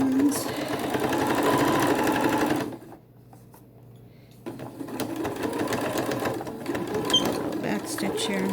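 A domestic sewing machine stitches T-shirt fabric for shorts, its steady loud whirring pausing briefly mid-run before starting again, with no talking.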